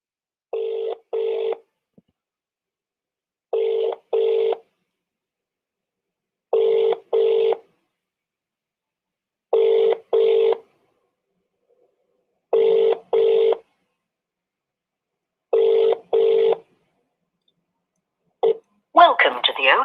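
Ring-back tones of an outgoing phone call, heard as paired electronic beeps repeating about every three seconds in otherwise silent pauses, followed at the very end by a brief burst of a recorded voice answering.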